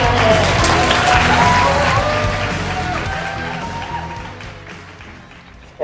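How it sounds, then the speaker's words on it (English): An audience gives a round of applause at a speaking event, dense clapping mixed with faint whoops and cheers that starts loud and gradually tapers off. "I'm going to stand up and give a round of applause for Mark and Shannon."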